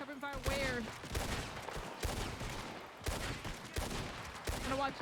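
Covering gunfire rings out in the Wild RP western roleplay game, rapid rifle and pistol shots cracking in close, heavy volleys every second or so, with voices talking over the shooting.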